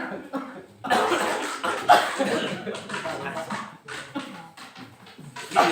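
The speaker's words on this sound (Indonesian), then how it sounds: "Saya lagi batuk kasih asap terus." During a monthly religious gathering, a man coughs repeatedly in rough, irregular bursts, close and fairly loud, with a few short chuckling sounds mixed in.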